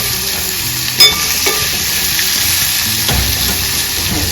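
Okra sautés in oil over a low gas flame, hissing in a steady close sizzle, with a sharp utensil clink near the start and a few faint stirring scrapes.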